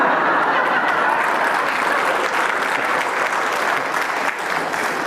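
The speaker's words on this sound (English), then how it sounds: "And the first to clap is a woman." Steady, dense audience applause during a lecture on pluralism and Islam, loud and sustained for several seconds with no talking.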